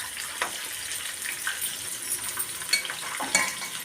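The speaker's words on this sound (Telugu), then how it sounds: "చూసుకుందామండి వంకాయలు ఫ్రై అయినాయా లేదండి, ఇంకా కావాలి" Stuffed brinjals fry in a pan with a steady, close crackling sizzle, broken by scattered sharp pops and spatters throughout; no one talks.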